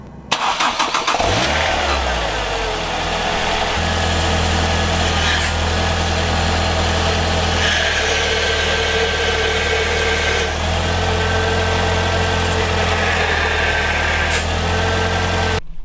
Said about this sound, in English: I'm going to turn the engine on